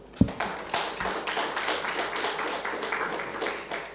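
An audience at an International Day for Universal Access to Information conference breaks into applause, a few sharp initial claps swelling into a steady patter of clapping that continues to the end, heard from within the room.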